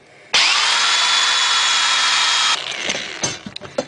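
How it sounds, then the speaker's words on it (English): A power drill whines loudly and steadily for about two seconds while drilling through a pipe for a tripod swing set, then cuts off, followed by a few scattered clatters and knocks. "and drill all the way through."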